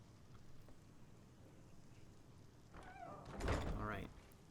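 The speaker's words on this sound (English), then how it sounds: "we're going to close the door behind us here as well" A door swings shut inside a Skyrim room, a brief thudding close near the end that rises over a faint room hum.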